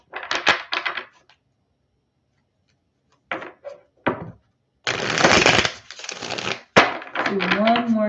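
Tarot cards being shuffled by hand, bursts of riffling and flicking in short clusters separated by pauses, fairly close and clear, with brief quiet gaps.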